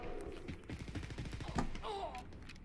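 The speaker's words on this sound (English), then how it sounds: "Wait, who the hell is shooting her?" Automatic weapon fire in the shooter Wolfenstein: Youngblood, fast rattling bursts at moderate distance, fairly quiet, with a voice briefly speaking over the shooting.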